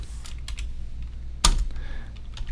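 Rapid clicky keystrokes on a computer keyboard while code is typed, close and fairly steady, with one louder sharper key strike partway through.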